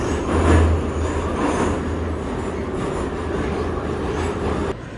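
A metro train in Armenia rumbles into a station with a deep, heavy roar and rattling wheels, loud and close, easing off slightly toward the end.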